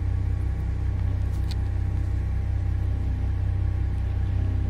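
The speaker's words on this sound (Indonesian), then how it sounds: "Baru kita gas sampai RPM 1680 atau sampai dengan 1570" Komatsu 785-7 haul dump truck diesel engine held at high revs near 1680 RPM during a brake test, a steady, loud, deep rumbling drone with a constant low hum, no talking.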